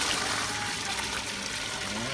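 Water swirls counterclockwise as it is poured, a continuous close trickling and gurgling wash with no pauses.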